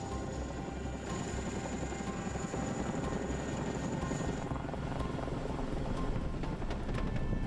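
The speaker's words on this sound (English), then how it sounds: "nothing that is quite as exhilarating as seeing the Chinook fly" A Chinook helicopter flies with a steady, fairly distant rotor thrum and engine whine that hold at an even level throughout.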